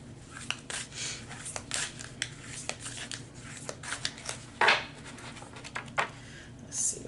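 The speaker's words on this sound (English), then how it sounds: "I'm going to shuffle the cards for your final messages" Tarot cards are shuffled by hand at close range, producing soft, irregular riffling and slapping bursts with brief quiet gaps, faint and intimate.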